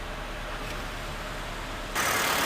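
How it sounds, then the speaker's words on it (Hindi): Honda Brio petrol engine running steadily, a constant hum and hiss that turns noticeably louder and brighter partway through, as if heard closer to the open engine bay. "तो ये हमारी ब्रायो की इंजन की साउंड कैसी है ये।"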